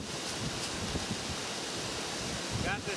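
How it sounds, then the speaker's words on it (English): Steady, loud wind buffeting the microphone outdoors on the South Dakota plains, a constant broadband rush with a few stronger gusts and no speech. "You can see it's windy out here."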